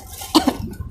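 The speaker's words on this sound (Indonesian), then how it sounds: "Jangan batuk-batuk dong." A single short, sharp cough sounds close by, followed by a softer second burst, against a quiet background.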